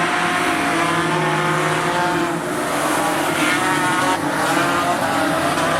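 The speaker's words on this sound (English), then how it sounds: "We're 1 lap down and the speed is on for the production cars." Modified production race cars roar around Rockhampton Speedway in a continuous, loud, close engine drone, with faint tyre squeal as the pack laps the track.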